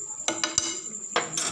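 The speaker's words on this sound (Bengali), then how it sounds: "এই বাটারটা আবার মিশিয়ে দিলাম।" A spoon stirs butter through a pan of chatpata Punjabi-style ladies finger (okra), giving a few sharp clinks and scrapes against the pan over a faint steady hiss.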